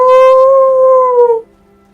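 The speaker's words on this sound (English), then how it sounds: "howl, and you know that there's a wolf about." A wolf's long, loud howl from Skyrim rises and holds steady on a sustained tone for over a second before cutting off, heard alone with no talk.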